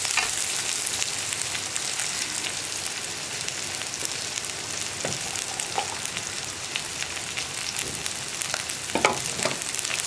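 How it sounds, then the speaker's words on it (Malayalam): Onions, green chillies and curry leaves sautéing in a pan, a steady crackling sizzle with occasional sharper pops and light stirring scrapes, close and even throughout, with no one talking. "ഇനി ഉള്ളിയൊക്കെ ഒന്ന് സോഫ്റ്റ് ആയി വരുന്നത് വരെ ഇളക്കി കൊടുത്തുകൊണ്ടിരിക്കുക."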